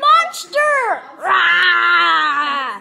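A child lets out loud, shrill monster-like screeches, one short cry followed by a longer sustained screech, close and intense.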